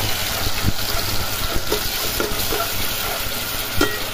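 A tomato and onion paste fries in mustard oil for pav bhaji, making a steady sizzle. Scattered scraping knocks from stirring in the pan sound close by, and there is no talk.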